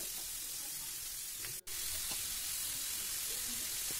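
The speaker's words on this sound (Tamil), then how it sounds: "அதையும் வெங்காயத்தோடு போட்டு நல்லா வதக்கிக்கோங்க" Tomato and onion sauté together in a pan for an egg gravy, a steady close hiss and sizzle with faint stirring ticks and a brief cut in the sound partway through.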